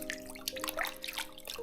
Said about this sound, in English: I am now massaging the t-shirts and socks that we have been wearing today.